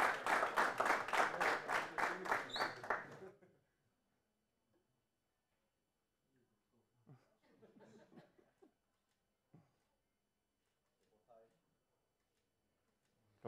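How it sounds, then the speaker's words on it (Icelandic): At an Icelandic handball championship awards ceremony, a small group gives a short burst of rhythmic hand clapping, fading out after a few seconds, followed by quiet murmurs and scattered laughter. "gefum hann gott klapp"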